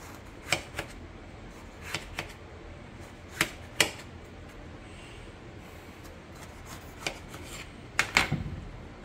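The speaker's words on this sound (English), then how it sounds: "Cutting up the tomatoes for the salsa right here" A knife cuts tomatoes for hot salsa, sounding as sparse, sharp taps on a cutting board at irregular intervals, faint and close with quiet room tone between strikes.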